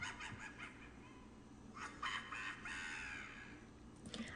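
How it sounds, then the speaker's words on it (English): A downloaded witch's cackle sound effect for a game plays as a raspy, shrill laughing burst that swells in the middle and trails off, fairly loud over a low background hum. "I think that's a great witch's cackle."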